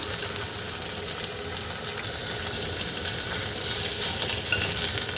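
Rice sautéing in a pan over medium-high gas heat for a pea pulao, giving a steady, close sizzle with soft stirring that runs unbroken throughout, with no voices.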